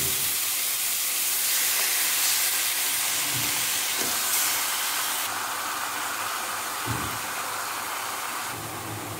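Steady, loud sizzling hiss of one kilo of chicken frying with chopped tomato in a pan, continuous throughout with a few faint clinks, no talking.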